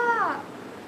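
A pet cat gives one short, close meow that slides downward and fades into quiet room tone.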